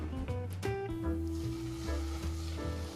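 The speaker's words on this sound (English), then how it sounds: "You wanna hear that sizzling." Pork shoulder sears skin side down in a hot pan, giving a steady close sizzle and crackle that runs throughout, with a few clinks and stirring sounds on top.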